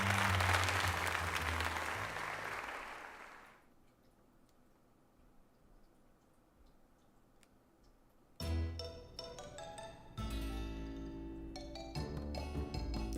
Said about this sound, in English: let's give another heartfelt round of applause to Snowy.